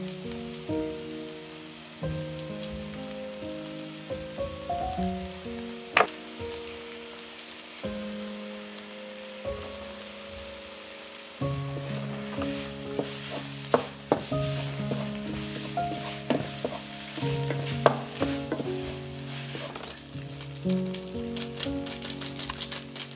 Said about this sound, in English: Now stir the noodles for a minute.